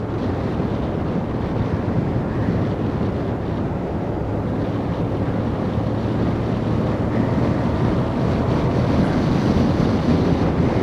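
Steady, loud wind buffeting over the microphone while riding a Hyosung GT250 motorcycle on a route with curves and shaded roads, a constant roar with no break.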